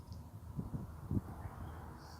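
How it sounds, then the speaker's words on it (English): Crows cawing outdoors near an old fort, a few faint harsh calls in quick succession over quiet ambient background. "See the birds?"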